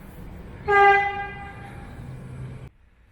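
A train horn sounds once, loud and sustained, over rumbling rail noise as a train passes through Toorak Railway Station in Victoria, Australia, continuing for a couple of seconds before dropping away.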